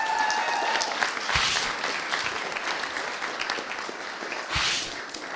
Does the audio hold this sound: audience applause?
yes